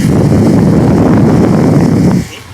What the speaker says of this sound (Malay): Aku bagi dengar bunyi kipas pusing